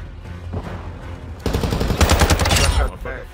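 Gunfire in a first-person shooter video game erupts as a rapid volley of sharp shots and bursts, loud and dense, with faint chatter and in-game sounds underneath.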